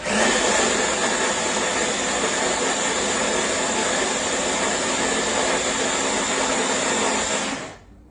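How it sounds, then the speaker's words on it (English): A blender or grinder motor whirs loudly and steadily while grinding homemade dog treat ingredients fine, then winds down and stops near the end. "Really want to grind these down, make it really fine."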